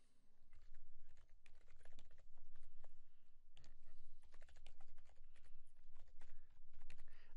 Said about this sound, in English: I guess I will go ahead and type it.